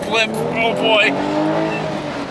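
2024 Porsche 911 Carrera T with its automatic gearbox downshifting, the engine blipping up and settling, heard from inside the cabin with the moonroof open while a person talks over it.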